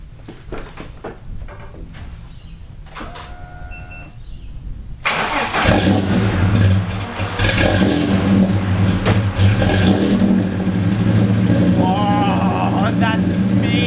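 A supercharged Holden AU engine cranks and fires after a few seconds of quiet shop noise, then idles loudly and revs with a deep, steady roar. Voices can be heard faintly near the start.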